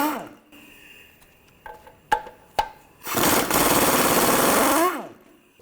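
A socket wrench works the nuts off the radiator cooling fan assembly of a 2006–2011 Cadillac DTS, with a few sharp metallic clicks, then about two seconds of rapid, continuous ratcheting buzz close by.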